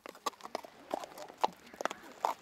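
Hooves of horses roaming loose through a village clip-clop on pavement in an irregular run of sharp, close knocks, with a faint voice briefly in the background.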